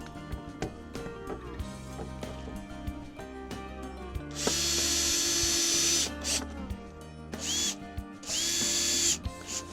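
Power drill driving the last screws into the wooden top board of a Vegtrug raised planter, with two long whirring bursts and several short spurts among clicks and knocks of handling.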